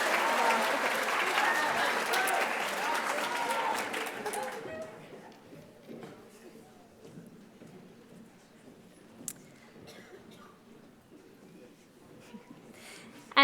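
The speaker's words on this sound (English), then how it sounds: "We have one more applause for Team Journey." Audience clapping for Team Journey at a middle school awards night, a dense burst of applause for several seconds that fades out, leaving quiet room ambience with a few scattered sounds.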